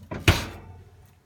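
A glass RV oven door in a 2020 Grey Wolf 27RR Cherokee camper swings shut with one firm thud, followed by a short fading rattle, close and alone.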